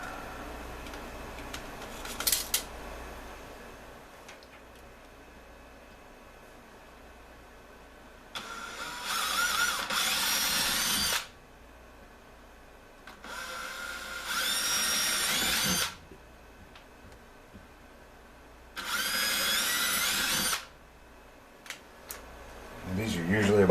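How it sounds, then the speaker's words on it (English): A power drill bores through the back of a wood cabinet with a big bit in three loud sustained bursts of several seconds each, separated by quieter pauses with faint background noise. "I tried to drill through from the back with a big bit"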